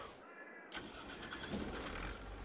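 A large International Harvester 1480 combine harvester engine in Farming Simulator 22 cranks and starts, then settles into a steady, deep idle that grows slightly louder.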